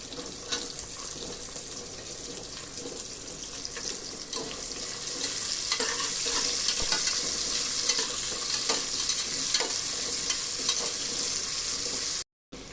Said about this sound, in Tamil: வெங்காயம் ஒரு 2-3 வெங்காயம் சேர்த்து நல்லா பொன்னிறமாக வர அளவுக்கு வதக்கி எடுத்துக்குவோம்.